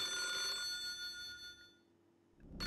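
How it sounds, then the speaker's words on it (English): A telephone rings with a bright, sustained bell tone that fades away, followed by a short burst of noise at the end, with no talking. "And then suddenly the phone rang."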